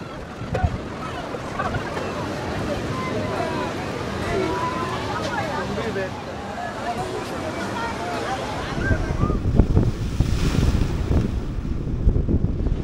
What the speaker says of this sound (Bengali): দেখো পৌঁছে গেলাম কিন্তু দীঘা সি বিচে